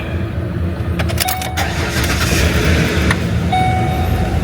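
A car being started nearby, with clicks and a rattle before the engine turns over and settles into a steady, fairly loud idle.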